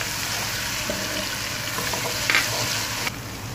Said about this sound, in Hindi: फ्राई करेंगे।